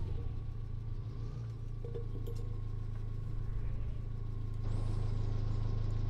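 A Land Rover car in the Farming Simulator 19 video game idles and creeps along with a steady low engine drone that rises slightly near the end, with no talk over it.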